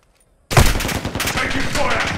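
Call of Duty: Modern Warfare II gunfire erupts abruptly from silence into a loud, dense burst of rapid automatic shots that keeps rattling on close by, with a voice faintly in the mix.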